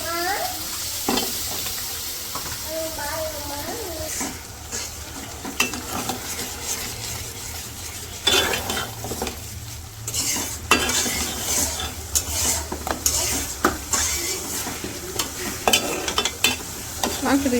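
Washed beef pieces go into a hot pan in a village kitchen and are stirred steadily, with a continuous sizzle and frequent scraping and clinking of the utensil against the pan.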